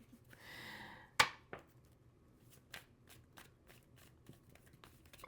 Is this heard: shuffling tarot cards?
yes